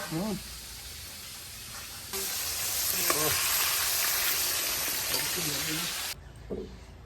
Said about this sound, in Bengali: সেই নতুন বাদাম ভাজি করছে